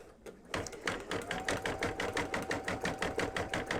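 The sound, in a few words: sewing machine stitching metallic thread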